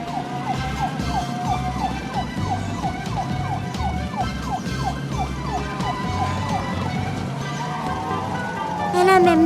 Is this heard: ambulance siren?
yes